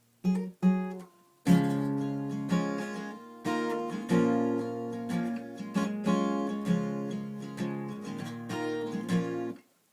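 An acoustic guitar is strummed up close, a few plucked notes first and then repeated chord strums in a steady rhythm.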